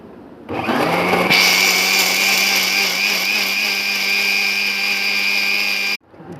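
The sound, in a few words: electric grinder blending tomatoes and Kashmiri red chilies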